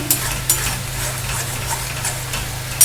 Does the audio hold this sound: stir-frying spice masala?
yes